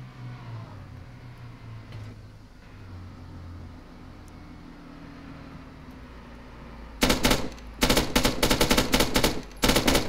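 Gunfire in the Arma 3 video game: after several seconds of low engine-like rumble and ambience, loud, close bursts of automatic fire break out in rapid repeated volleys.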